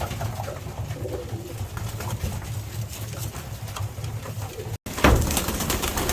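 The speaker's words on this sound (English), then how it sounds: "Let's go have a look at some white pigeons." White pigeons coo softly in a loft, steady low murmuring calls under a constant engine-like hum and outdoor noise, with a brief cut and a louder burst near the end.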